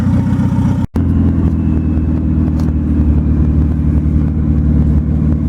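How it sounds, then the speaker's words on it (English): A Volvo wagon with a turbo engine cruises along, a steady loud low engine drone with road rumble inside the cabin, briefly cut out near the start and otherwise continuous with no talk. "we're cruising the wagon home right now, and this motor seems to run pretty good"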